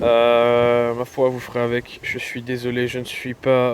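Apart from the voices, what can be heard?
None of the usual background noises is heard.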